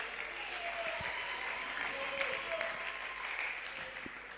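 A church congregation applauds and cheers to acclaim the Lord, steady sustained clapping with a few raised voices throughout, moderately distant and even in level.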